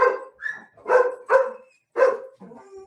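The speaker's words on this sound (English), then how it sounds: "Sorry, my dogs are acting up." Several loud, close dog barks come in uneven bursts with short gaps, ending on a softer whine-like yelp, heard during a home video call with no talk over them.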